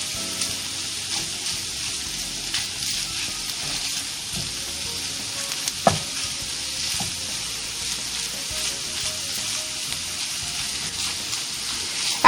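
Crumbled sausage sizzles steadily in a frying pan for biscuits and sausage gravy, with soft scraping and a single sharp clack midway as the meat is broken up, no voices.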